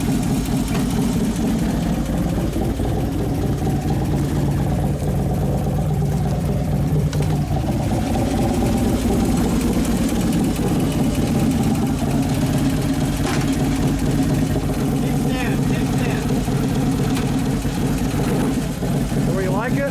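2011 Harley-Davidson Road Glide twin cam engine idling steadily with a low rumbling throb throughout, a voice speaking faintly over it.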